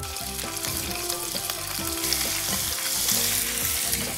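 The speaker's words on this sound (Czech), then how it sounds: "Já tu klišku okořením, klasicky sůl, pepř, a opeču na barvu na pánvi." Seasoned beef shank sears in coconut oil in a hot pan, a steady loud sizzle and crackle running throughout, with faint stirring and occasional scraping underneath.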